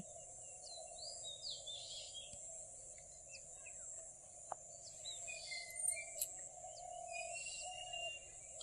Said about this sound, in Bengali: সকাল সকাল পাখিদের কলাহাল কার কার পাখিদের কলাহাল শুনতে ভালো লাগে